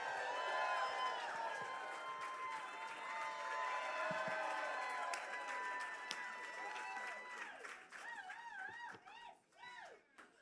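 A large crowd at a campaign rally stop at Tulips in Fort Worth cheers and applauds in a sustained roar with whoops, then settles as excited voices call out in higher shouts.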